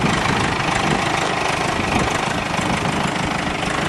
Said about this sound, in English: Strong old tractor, that's for sure.